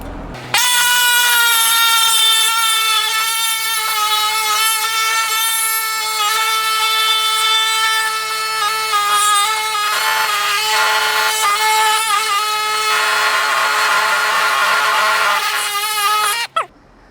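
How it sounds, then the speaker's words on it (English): A power tool with a new blade cuts thick sheet metal on a rotten old VW Beetle, a loud harsh whine with strong ringing tones holding steady for about sixteen seconds, wavering as the cut proceeds, then stopping abruptly. "I still need to cut the hook using a new blade"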